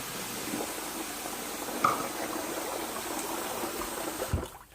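Bicarb soda fizzes and bubbles in a container of hot water, a steady close hiss of small bubbles with a brief clink partway through and a soft bump near the end.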